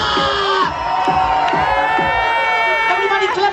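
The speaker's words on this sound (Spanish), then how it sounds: "¿Quieres escuchar un grito de México?" Crowd on a pirate party boat in Cancún shouting and whooping together in a loud, sustained roar over music, with voices rising in a chorus of cheers.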